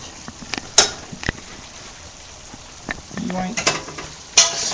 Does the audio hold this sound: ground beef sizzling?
yes